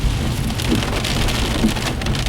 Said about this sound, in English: Lots of heavy rain.